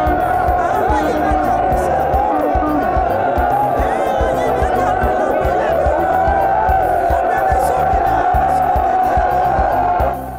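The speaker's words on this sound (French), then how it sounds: "C'est une foule compacte et résolument engagée à soutenir le candidat du RPG Arc-en-Ciel qui a répondu à l'appel." Large, dense crowd of political supporters at a rally for Alpha Condé on Place des Martyrs, a steady roar of cheering and shouting voices throughout, loud and unbroken.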